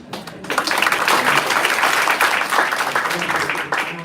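A burst of applause from a church congregation at a Sunday service, many hands clapping together in a dense, sustained wash that fades slightly toward the end.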